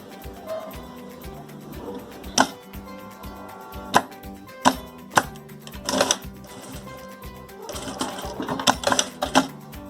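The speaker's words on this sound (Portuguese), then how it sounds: "E aí vou passar mais uma costurinha com o pezinho de máquina" A sewing machine with a presser foot runs a finishing seam on a crochet bucket bag, a steady close mechanical whir broken by sharp clicks and knocks.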